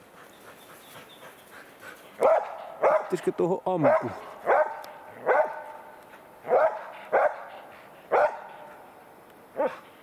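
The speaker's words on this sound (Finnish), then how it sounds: "Aika varmalta kuulostaa koira." Repeated barking of a hunting dog at moderate distance, a steady series of sharp barks, with a person speaking briefly in between.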